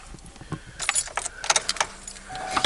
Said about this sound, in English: you got to put this, turn the ignition switch back on here